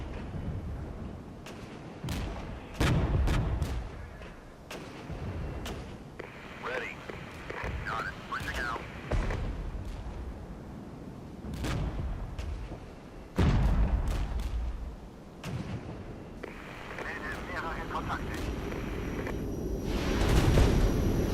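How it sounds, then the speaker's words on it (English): A rocket strike in the Regiments war strategy video game brings heavy booms and rumbling blasts over a constant roar of battle, with a voice talking over it. "rocket strike on the M1s."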